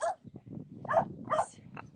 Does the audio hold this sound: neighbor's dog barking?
yes